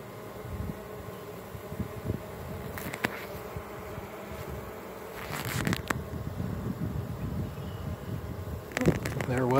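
A swarm of honeybees around a hive box buzzes in a dense, steady drone that runs through the whole stretch, with a few sharper passes of individual bees flying close by.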